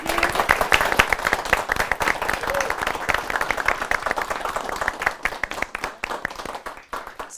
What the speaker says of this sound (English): Just let's a round of applause to say thank you.